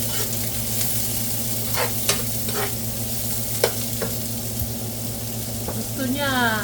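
Onions frying in a pan for pineapple chicken, a steady close sizzle broken by scraping stirs, with a low steady hum underneath and faint talk in the background.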